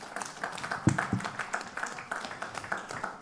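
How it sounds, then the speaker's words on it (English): Audience applause for the chairperson of Uganda's Equal Opportunities Commission at a report launch event, brisk scattered clapping from a crowd, moderately loud, with a couple of sharp nearby claps standing out. "Bigger round of applause to our chairperson of the Equal Opportunities Commission."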